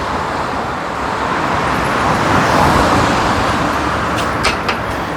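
Loud, constant roar of roadside traffic, vehicles rushing past nearby in a continuous wash of engine and tire noise.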